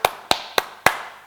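Four sharp hand claps, spaced about a quarter second apart, close and clear in a quiet room with no talking.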